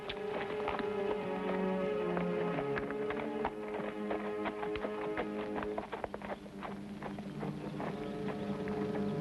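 A mare's hooves clip-clop steadily in a brisk, uneven rhythm, fairly close, over low background noise.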